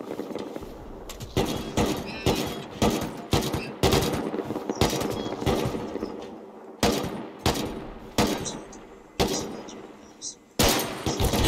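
Gunfire in a shooter game. Repeated bursts of automatic fire and single shots come in clusters over about eleven seconds, fairly loud, with brief lulls between volleys and voices heard in places.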